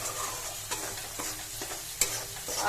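Soybean chunks and potato are stir-fried with spices in a pan, giving a steady close sizzle and frying crackle with scraping stirring strokes and a sharper clack near the end, with no talking.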